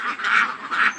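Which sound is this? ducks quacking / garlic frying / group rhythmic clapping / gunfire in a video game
ducks quacking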